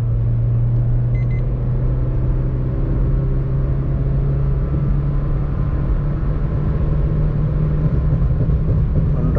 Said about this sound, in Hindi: और कार झटके भी मारने लग रही है